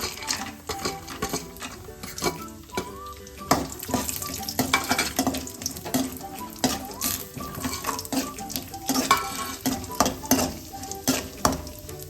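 Grated carrots for carrot halwa fry and get stirred in a pan, with repeated scraping and clattering strokes over a low sizzle. Steady background music plays throughout.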